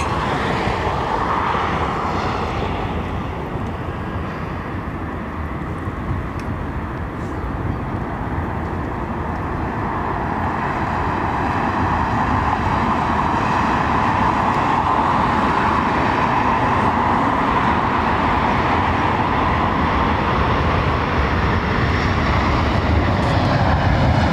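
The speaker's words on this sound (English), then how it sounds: "Qatar A350 on approach." Qatar Airways Airbus A350 on final approach to London Heathrow, a continuous loud jet roar that swells gradually as the airliner draws nearer, with no voices.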